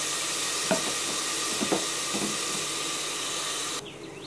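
Ground masala paste frying in about two spoons of hot oil for a pepper chicken kulambu, a steady close hiss with a few stirring scrapes, the sizzle suddenly dropping quieter near the end.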